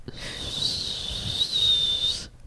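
A breathy, airy attempt at whistling produces a sustained hissy tone for about two seconds, close to the mic with no clear pitched note and no speech.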